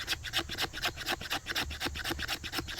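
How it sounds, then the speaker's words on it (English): Steel knife blade scraping fatwood, a resin-rich pine, giving a quick run of close, rhythmic rasping strokes, each short scrape repeating steadily and alone. "we're going to scrape some fat wood."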